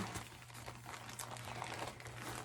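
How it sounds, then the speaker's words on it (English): A plastic bag holding cross-stitch supplies crinkles and rustles as it is handled, faint close-up crackles coming in irregular bursts over a quiet low hum. "this is in a very fancy plastic bag."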